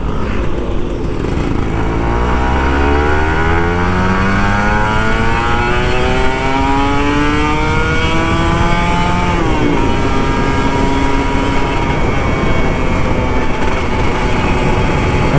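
Kawasaki Ninja RR 150 two-stroke motorcycle riding on a morning road, its engine revving up and down through gears in a steady high-pitched buzz that rises repeatedly, loud and close throughout.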